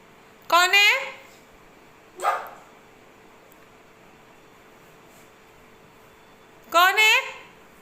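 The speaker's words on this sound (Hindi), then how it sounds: "डॉगी आ गया" A dog barks outdoors in the evening, three sharp, fairly close barks, two of them doubled, spaced out by quiet gaps over a faint steady hum.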